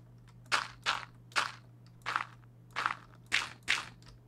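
Dirt blocks being placed in Minecraft Beta 1.7.3, heard as seven soft, crunchy thuds in an uneven rhythm, close and fairly quiet over a steady low hum, with no talking.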